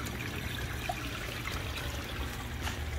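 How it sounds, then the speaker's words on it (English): Water overflowing from an Oscar fish tank into a drain pipe makes a steady, soft trickling wash with a low continuous rumble, faint and unbroken throughout. "So yeah, all of this overflows right there."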